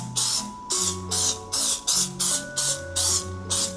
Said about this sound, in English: I'm gonna use the spray because it makes it a lot easier.